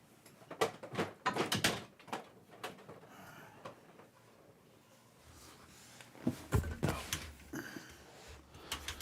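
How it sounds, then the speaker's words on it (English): A door being shut indoors brings scattered clatters and shuffling, then a heavier thud and rattle later on, with occasional cooing bird sounds mixed in. "I'm going to close the door."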